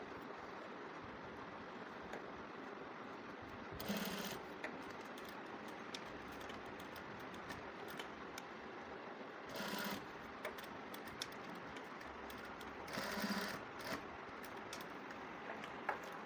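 A sewing machine stitches a hook strip onto a blouse in three short bursts of rapid mechanical whirring, separated by quieter pauses with faint background hum and no talk.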